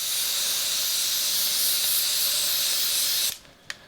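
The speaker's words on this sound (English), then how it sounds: "The other thing you can do is when you're spraying through it," An airbrush hisses steadily while spraying through a texture template, a loud continuous close-up spray that cuts off abruptly near the end, followed by a brief click.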